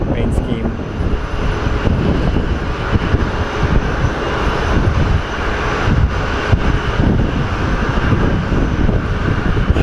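Airliner at Sky Harbor International Airport, its engines giving a steady, loud broadband roar with wind buffeting the microphone throughout; no talk is heard.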